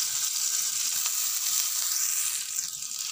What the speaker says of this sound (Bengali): আদাটা একটু ভাজা ভাজা করে নেব